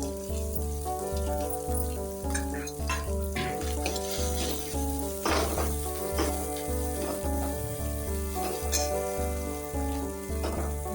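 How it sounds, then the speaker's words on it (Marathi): Potato with ground peanuts and two green chillies frying on low heat for sabudana vada, a steady close sizzle running throughout alongside a regular beat of music, with occasional stirring scrapes. "मी मिक्सर मधून काढलेले शेंगदाणे आणि 2 हिरव्या मिरच्या, हे छान अगदी असं फ्राय करून घेऊ."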